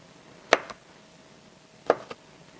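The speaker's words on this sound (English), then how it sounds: "And you can just cut this into chunks." A knife cuts fruit into chunks for a smoothie, giving two pairs of crisp chopping taps on a board, close and clear in a quiet kitchen.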